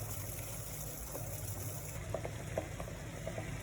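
A pot of water boils hard on a high flame for a homemade cough drink, a constant low bubbling rumble with scattered soft pops and patters and no talk.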